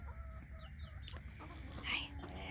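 Chickens and a rooster on a farm cluck and call faintly against a steady background hum, with one brief sharper squawk standing out near the end.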